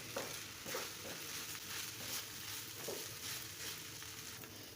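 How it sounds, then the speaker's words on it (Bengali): Rice fries in oil in a pot for pulao, a steady quiet sizzle with occasional soft stirring scrapes, heard alone at a low level. "চালটা অনেকক্ষণ ভেজে নেবে"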